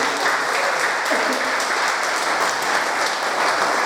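A large crowd at a church fellowship service claps steadily, dense sustained applause filling the room throughout without a break.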